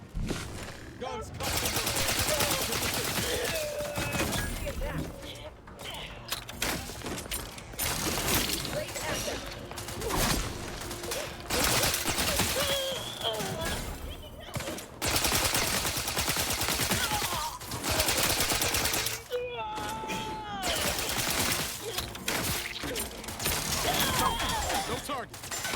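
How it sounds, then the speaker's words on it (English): Gunfire in the video game Outer Worlds 2, with repeated bursts and rapid shots crackling across a dense, loud soundscape of combat, machinery and effects, with voices speaking at times. "Guns"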